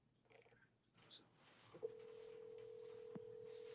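Outgoing phone call to a sales lead ringing out: a steady electronic ring tone rises near the earpiece and holds continuously after a few faint clicks, fairly quiet, with no talk over it.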